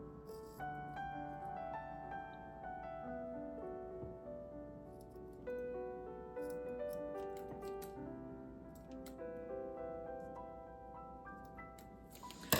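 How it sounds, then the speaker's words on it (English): Dull scissors snipping at a craft upcycling project, a series of soft crisp cuts and small clicks close up, with a faint tonal background underneath and no talking. "those scissors are a little bit dull"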